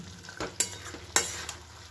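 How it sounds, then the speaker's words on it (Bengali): A spoon stirs a pan of potato and aubergine curry with chopped coriander, giving a few soft scrapes and sharp clinks over a faint, quiet sizzle. "এবার আমি এর মধ্যে দিয়ে দিচ্ছি ধনে পাতা কুচি, দিয়ে এটা দিয়েও একটুখানি নাড়িয়ে দেবো।"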